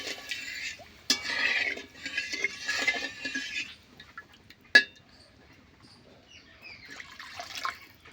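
Water is poured into a pan of omelette curry in a couple of splashing bursts, with a sharp metallic clink in between and a softer trickle near the end, close and otherwise quiet.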